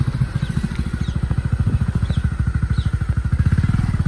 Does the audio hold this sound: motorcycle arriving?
yes